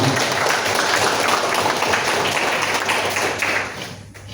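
An indoor audience claps steadily for a candidate at a neighborhood RW election forum in a village hall in Pondok Jagung, a dense continuous patter that thins out toward the end.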